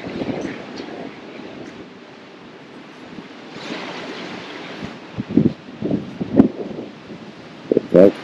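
Strong wind and heavy ocean swells batter a Norwegian Cruise Line ship during Hurricane Lee, a steady blustery roar broken near the end by several louder crashing surges close to the microphone.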